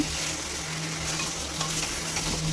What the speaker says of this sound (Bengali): তো আমরা আবারও ভালো করে মশলাটাকে আলুর সঙ্গে কষিয়ে নেব।